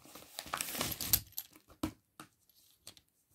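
Scissors cut and crinkle through plastic toy packaging for a BRIO Henry train, a cluster of close crackling and snipping rustles that tapers into a few isolated clicks and taps before falling quiet.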